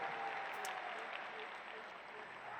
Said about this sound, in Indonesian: Beri tepuk tangan untuk seluruh jajaran Amanat Indonesia